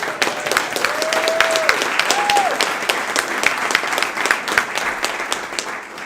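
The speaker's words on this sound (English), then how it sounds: "Let's give a round of applause" Sustained applause from a sizable audience at a graduation ceremony, dense clapping with a couple of cheers early on, holding steady and then easing slightly toward the end.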